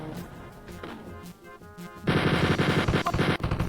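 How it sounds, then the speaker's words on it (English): Guns fire in the retro first-person shooter Spear of Destiny, with spaced single shots first, then a sudden loud, continuous stream of rapid machine-gun fire. "shooting my guns, shooting the guns"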